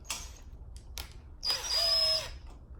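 A power driver with a number 25 Torx bit runs a screw into a pedestal assembly in short bursts: two brief quick whirs, then a longer whining run of about a second, fairly quiet and close.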